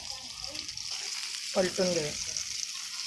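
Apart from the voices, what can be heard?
rani fish frying and sizzling in a pan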